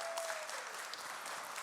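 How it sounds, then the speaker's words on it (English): Applause from a church audience, steady and moderately distant, filling the short stretch evenly without a break. "You can clap for that."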